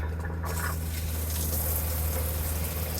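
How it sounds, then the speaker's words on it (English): Hot water runs steadily from the shower tap inside a camper, a constant close rushing hiss with a low hum underneath and no talk. "You could turn your hot water on first,"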